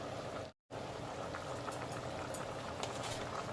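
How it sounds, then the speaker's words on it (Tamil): A pot of water at a rolling boil on the stove, steady bubbling and hissing with no break apart from one brief dropout, close and continuous. "இப்போ தண்ணி நல்லா கொதிக்குது."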